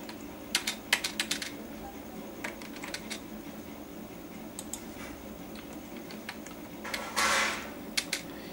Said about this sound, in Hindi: यहाँ पर कोच टाइप कर दीजिए